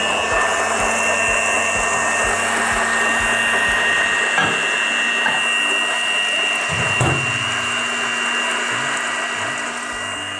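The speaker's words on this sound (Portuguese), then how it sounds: "enquanto ponho a batedeira a trabalhar" Electric kitchen mixer running at home while chocolate and butter melt, a loud, constant close whine with a few faint clinks and knocks underneath.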